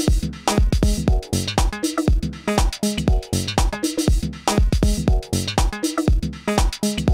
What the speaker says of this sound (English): Right now we have the Limelight sampler loaded and it sounds like this.